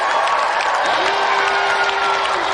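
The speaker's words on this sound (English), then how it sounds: "So let's give another round of applause for Clive Barton and Richard Walkling." A TV game show studio audience applauds and cheers for the contestants, a dense continuous wash of clapping with a few whoops, fairly loud and without talk.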